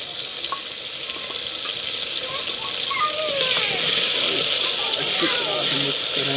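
Garlic, ginger and green chilies fry in a pan with onions in a village-style kitchen, a steady loud sizzling hiss that runs the whole time, close and continuous.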